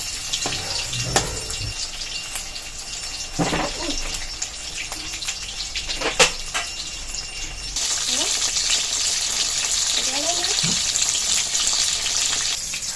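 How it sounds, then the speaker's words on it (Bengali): Rice-paste pumpkin leaf fritters stuffed with dried fish fry in hot oil, making a loud, steady sizzle with scraping turns of a spatula; the crackle grows denser and brighter about halfway through. "এবার উল্টে দিয়ে আরেক পাশ ভেজে নেব।"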